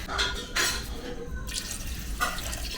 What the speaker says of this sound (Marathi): अजून पाणी टाकूया